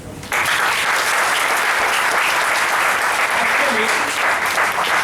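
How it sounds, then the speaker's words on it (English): Classroom of students breaking into sudden loud, sustained applause that starts abruptly and continues steadily for several seconds, dense and close, with no one speaking over it. "Give me a clap."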